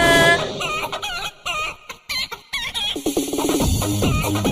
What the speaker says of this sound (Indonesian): Sekali lagi ayamnya.